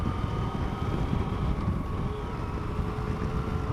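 A 2015 Yamaha FJ-09 (Tracer) motorcycle cruising in second gear at just under 50 km/h on city streets, a steady low engine drone beneath heavy rushing wind noise, constant and unbroken throughout.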